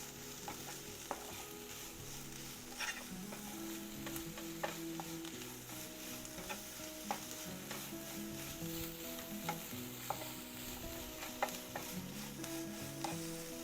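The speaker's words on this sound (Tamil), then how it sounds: "சேர்த்துட்டு இதை கொஞ்சம் நல்லா ஃப்ரை பண்ணிக்கலாம்." Steady sizzling of a bajji chilli mixture frying in a pan for chutney, with repeated scraping and stirring clinks of a utensil throughout.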